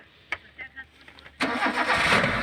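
A car engine is started with the self-starter: a few faint clicks and brief cranking, then the engine catches at about 1.4 seconds and settles into a loud, close idle.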